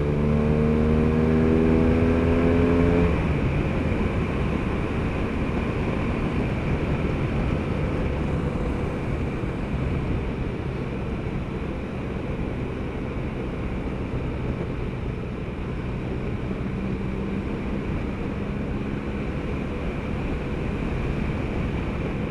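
A BMW R1200RS motorcycle riding a twisty, undulating country road in Cornwall, heard as a steady loud engine drone with rushing wind that dips slightly in pitch early on, then holds a continuous roar throughout.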